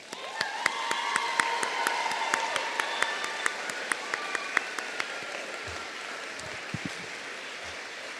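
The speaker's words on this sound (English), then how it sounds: "Let's give our graduates another round of applause." Commencement audience applauding graduates, sustained crowd clapping with sharp individual claps standing out, gradually thinning toward the end.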